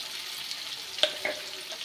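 Amla (Indian gooseberries) frying lightly in oil for pickle, with a soft, steady sizzle and a couple of faint pops or clinks near the middle.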